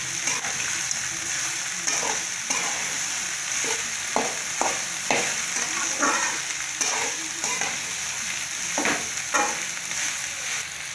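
Cut okra and softened onion are stir-fried in a pan, giving a loud, continuous sizzle broken by repeated scraping and clattering stirs and a few splattering bursts.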